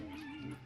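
A burnt puppy in a Fallout TV episode gives a short, close whimper, a brief strained whine with no other sounds over it.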